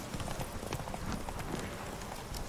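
Roach, a horse in The Witcher 3 video game, gallops with steady rapid hoofbeats under a dense, constant layer of game background noise, moderately loud throughout.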